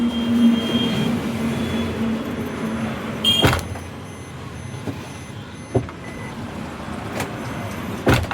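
Road traffic near the Punawale underpass heard from inside a vehicle, a steady low rumble broken by a few sharp thumps and clicks, no speech.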